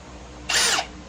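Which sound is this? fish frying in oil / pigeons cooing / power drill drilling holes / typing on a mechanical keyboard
power drill drilling holes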